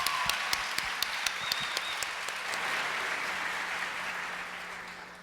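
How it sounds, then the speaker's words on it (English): Pageant audience breaking into sustained applause, with sharp individual claps up front settling into a steady wash of clapping that gradually thins out toward the end. "Let's give him a big round of applause"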